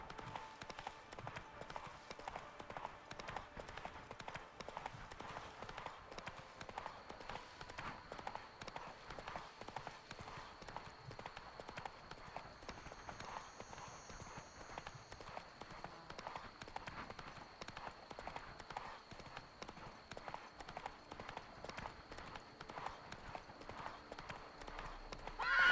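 Horse hooves clip-clop in a steady, even rhythm as the mount trots along in the video game The Witcher 3, moderately close and continuous, with soft game ambience behind.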